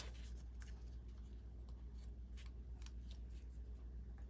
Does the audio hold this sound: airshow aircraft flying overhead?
no